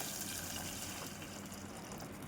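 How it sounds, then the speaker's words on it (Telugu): Water poured into a cooking bowl, a steady broad gushing wash that stays fairly even and quiet, close by, with no talk over it. "మనం ఎంత కావాలనుకుంటే అంత వాటర్ వేసుకోవాలి."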